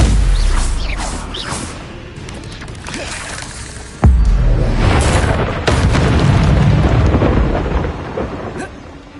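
Spell casting effects in Hogwarts Legacy on PS5: deep booming impacts and rumbling blasts over dense magical whooshes, with a sharp, loud hit near the middle and another surge shortly after.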